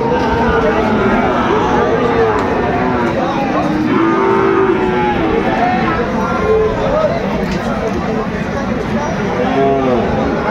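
Sahiwal breed bull calves moo at a busy cattle market, with repeated loud, drawn-out bellows overlapping the constant chatter of the crowd and people talking nearby.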